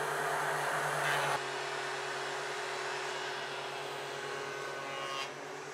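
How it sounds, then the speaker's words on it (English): A two-speed thickness planer runs at its slower speed, cutting wood with a loud, steady motor whine and broadband cutting roar, ending in a sharp change after about a second, then humming on and tapering near the end. "You should not try to cut more than 3 millimeters with the thickness planer."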